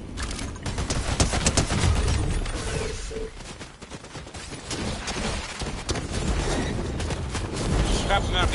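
Rapid gunfire in the video game Fortnite, loud dense bursts of shots running almost the whole time with brief lulls, mixed with game effects and a voice talking over it.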